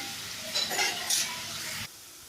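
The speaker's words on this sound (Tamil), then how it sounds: "எல்லாத்தையும் நல்லா வதக்குவோம்" Shallots and pirandai sauté in oil, a brief close sizzle with a couple of louder stirring swells before it drops to a quieter hiss.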